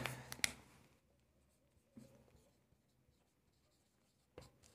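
Chalk or marker writing on a board, with faint scratchy strokes and light taps, a few louder knocks at the start and near the end, in a quiet room with no talking.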